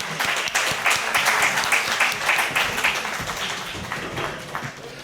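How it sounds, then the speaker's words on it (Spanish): A conference audience at a sustainability congress on business and biodiversity claps loudly and continuously, with the clapping thinning a little near the end. "Un aplauso, por favor."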